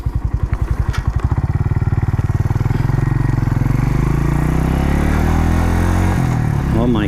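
A Suzuki TU250X motorcycle engine runs close and loud while riding, with steady thumping pulses at first that smooth into a continuous rising drone as it pulls away and gathers speed.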